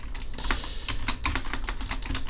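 Computer keyboard shift and arrow keys tapped in quick bursts of clicks, close and crisp, uneven in rhythm with a steady low hum behind and nobody speaking.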